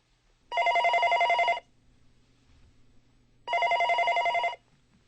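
Telephone bell rings twice in a quiet indoor setting, each burst about a second long with a pause between, clear and fairly close.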